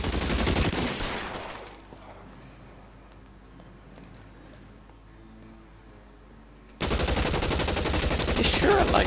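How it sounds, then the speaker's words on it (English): Gunfire in a police video game, loud rapid bursts of shots at the start and again at the end, separated by a quieter stretch. "Shots fired and officers need help"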